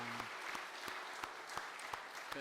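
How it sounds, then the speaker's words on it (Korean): A church congregation at a Sunday daytime service gives a burst of welcoming applause, many hands clapping steadily together, with a brief tone sounding at the start and end. "우리가 힘차게 환영의 박수 드릴 때"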